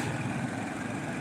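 A vehicle passes at a railway gate, its steady engine hum close by and even throughout, with no voices.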